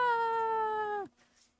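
A cat gives a single long, clear, close meow lasting about a second and then cuts off sharply into near silence.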